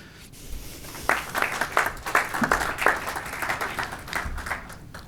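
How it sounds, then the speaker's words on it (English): A small conference audience at a talk on rural mobile connectivity gives brief, scattered applause, individual claps audible in an uneven patter that swells and then thins out. "applause please"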